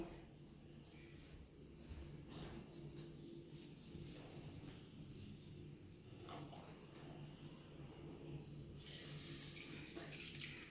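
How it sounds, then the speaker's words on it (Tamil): Milk pours into a pan for carrot halwa with a soft, continuous liquid trickle that sounds like a running tap, quiet and steady throughout, growing slightly brighter and louder toward the end. "நெக்ஸ்ட் வந்து நம்ம பாலை ஊற்றணும்."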